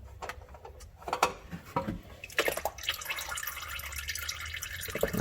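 Old engine oil from a KIA Soul trickles and drips into a drain pan, a faint irregular patter of drops and splashes with a few louder taps, close by and with no talk.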